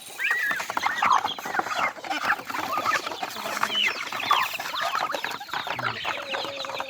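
Pet turkeys and chickens cluck and chatter steadily while being fed on a farm, a dense, busy flock noise close by that runs the whole time with no clear speech.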